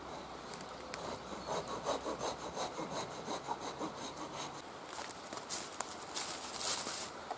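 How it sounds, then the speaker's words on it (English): A Silky folding saw cuts through wood outdoors in rhythmic back-and-forth rasping strokes, close and steady for the whole stretch. "Got a small axe with me today and a silky big boy saw"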